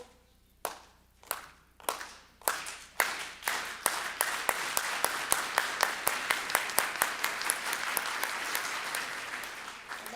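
An audience at a human rights speaker event claps in rhythm, beginning with a few slow, spaced claps that speed up into a fast, steady, loud beat from many hands.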